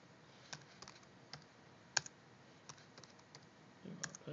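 Keystrokes on a computer keyboard while a password is typed during a Linux Mint Debian Edition install, scattered soft clicks with one sharper tap near the middle and a small burst at the end, close and quiet with no talk.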